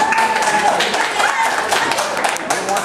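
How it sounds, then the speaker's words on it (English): An audience at a party gives a round of applause for a magician, steady close clapping with light crowd noise running throughout the clip. "so give me a round of applause."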